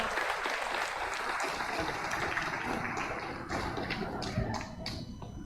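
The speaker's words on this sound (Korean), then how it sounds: "뜨거운 박수로 맞이해 주시기 바랍니다." A dense wash of clapping from a wedding audience fills the room and stays steady and fairly loud throughout, with occasional sharper taps and shuffling underneath.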